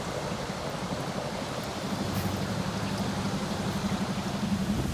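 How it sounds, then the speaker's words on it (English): A small hidden waterfall on Lake Livingston in Texas pours in a steady, broad rushing hiss that holds evenly throughout and grows slightly fuller partway through, with no voices. "There it is, a little waterfall."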